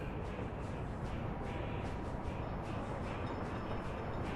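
A train arriving in the video game Workers & Resources: Soviet Republic, a steady dense rumble of rolling rail cars, moderately loud and unbroken, with no talking.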